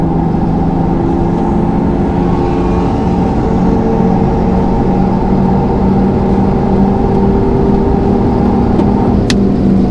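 A Renault Mégane 4 RS Trophy-R accelerates hard on a race circuit, its engine a loud, continuous, close drone from inside the car.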